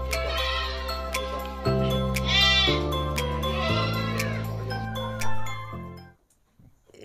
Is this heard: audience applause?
no